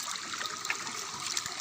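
Water trickling along a stream on a forest hiking trail, a soft, steady hiss and patter close by with no talk over it.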